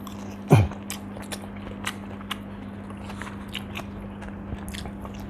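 Someone eats crisp fried rice very close to a Boya microphone in an ASMR setting, with one loud crunchy bite followed by quieter chewing and soft mouth clicks over a steady low hum.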